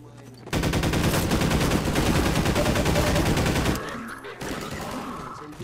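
Sustained automatic gunfire rattles in Half-Life 2, a rapid, loud burst running about three seconds before dropping off, followed by quieter game sounds and a few faint shots.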